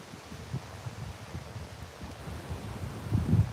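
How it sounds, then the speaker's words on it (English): Outdoor wind buffeting a microphone during an afternoon shooting session, a steady low rumble with rustling gusts that swell louder near the end, with no other sounds. "Other than the wind."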